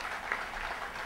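Applause from a meeting audience cheering Dr. Subramanian Swamy, a faint, brief patter of clapping heard at a distance with no talk over it.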